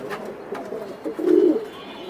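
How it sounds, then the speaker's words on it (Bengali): Pigeons cooing at a pigeon farm, a few soft low coos close by building to a fuller call near the end, with faint rustling in the background. "আজকে সুস্থ সবল কবুতর দেখাচ্ছি প্রত্যেকটা"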